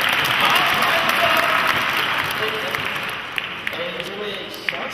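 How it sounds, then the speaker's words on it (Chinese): At an evening gathering, an audience gives a sustained round of applause that fades slowly as a voice talks over it. "我们也给爱人们掌声鼓励"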